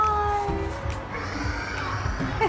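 A stuffed unicorn toy gives a short electronic meow, close and fairly quiet, with background chatter around it.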